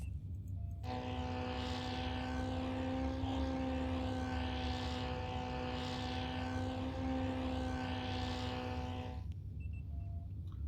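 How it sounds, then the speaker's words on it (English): Propeller airplane drone in the I Spy Fantasy video game, a steady tonal engine hum that fades in, holds evenly for several seconds, then cuts off, heard alone. "A plane."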